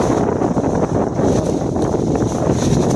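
Steady wind roars and buffets the microphone throughout on a cold morning, a continuous low rumble with no voices.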